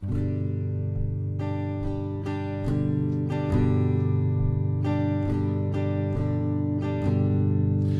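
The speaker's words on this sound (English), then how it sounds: "So if you strummed that, Bob, the rhythm would sound like this" A guitar strums a steady rhythm of chords with a dotted, long-short pattern, chords changing every couple of seconds, clear and close with no voices.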